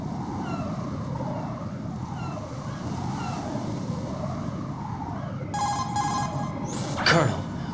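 A cell phone rings in the video game Metal Gear Solid 2: a few seconds of bright, buzzing electronic ring bursts that cut in late over a steady low ambient rumble.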